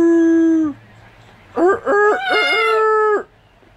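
A parrot imitates a rooster's crow: one long tonal note, a pause, then a rising, wavering cock-a-doodle-doo phrase, clear and close with no talking over it.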